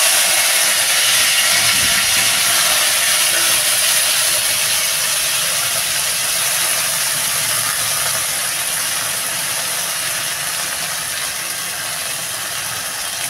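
Shrimp, soaked in hot water until plump, fry in hot oil in a wok, giving a loud, steady sizzle and hiss that holds evenly throughout with no voices.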